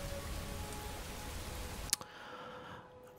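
Steady rain falling in the Skyrim video game, a dense hiss that holds evenly, then cuts off abruptly with a sharp click as the downpour gives way to a quieter ambient wash.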